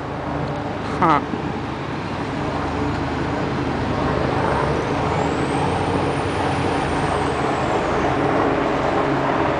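A tour bus rumbles along a Manhattan street amid traffic, with a loud steady engine drone, a brief sharp hiss near the start, and a voice talking over the road noise throughout.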